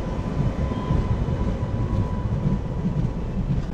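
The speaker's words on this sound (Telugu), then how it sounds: "ఆ ట్రైన్ని మన ట్రైన్ కృష్ణా కెనాల్లో ఓవర్టేక్ చేస్తుంది అనమాట" A passenger express train rumbles steadily from onboard while overtaking another express train near the Krishna canal, a continuous low roar with faint rail clatter.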